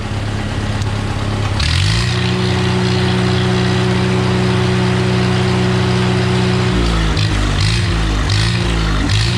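A straight-piped engine idling at very low RPM in the 66, a steady deep rumble with stable low tones that drops in pitch and stumbles near the end, loud and close with no talk.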